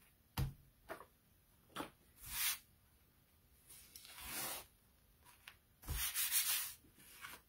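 A chalk stencil transfer being rubbed to add lint, heard as quiet, irregular bursts of brushing and scuffing with short pauses between strokes and no talking.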